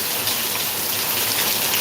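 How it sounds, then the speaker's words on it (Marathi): Heavy rain pours steadily in Deglur, a dense, even hiss of downpour filling the whole stretch with no voices. "कारण पाऊस खूप मोठा आहे आता ही स्थिती देगलूरची आहे"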